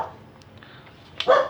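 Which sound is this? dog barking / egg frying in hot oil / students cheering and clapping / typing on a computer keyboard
dog barking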